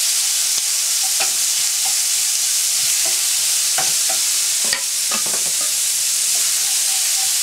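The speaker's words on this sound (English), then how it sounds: "Salmon straight in the pan." Salmon sears in a little oil in a hot pan, giving a loud, steady sizzle and frying hiss with occasional small pops and crackles throughout.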